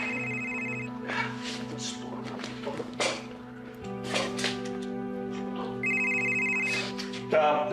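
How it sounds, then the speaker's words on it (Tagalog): A phone rings with an incoming call, its electronic ringtone repeating in steady bursts at moderate volume while voices talk over it in an indoor drama scene. "May tumatawag po sa inyo."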